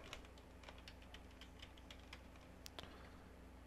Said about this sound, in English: We're going to type in our password.